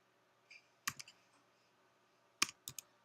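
A computer keyboard clicks under typing fingers, a few short bursts of close, quiet keystrokes separated by pauses, with no voices.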